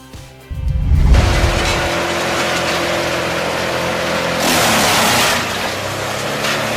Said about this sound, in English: The Morbark 2400 XL Hurricane Drum Chipper effortlessly devours logs up to 20 inches, turning them into wood chips in seconds.